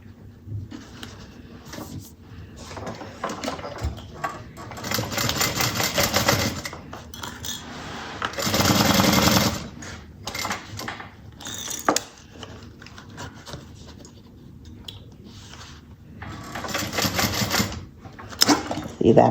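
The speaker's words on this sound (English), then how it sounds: "I'm going to sew this down. Sew this side down here." Sewing machine stitching down the side seam of a fabric bucket bag, a few whirring bursts of a few seconds each with quieter gaps of fabric handling, close, while someone talks between and over the runs.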